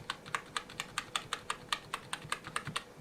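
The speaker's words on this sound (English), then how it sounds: "This is a full-size 104 key keyboard." Typing on an NPET K10 full-size 104-key rubber dome RGB gaming keyboard produces a steady run of muted, evenly spaced key presses, close and clear with no talking.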